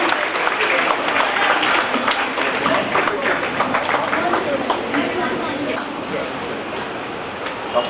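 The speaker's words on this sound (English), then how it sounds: "Give a round of applause." A round of audience applause at a school felicitation ceremony for a pre-university batch, loud, dense and sustained throughout, with voices faintly mixed into the steady clapping.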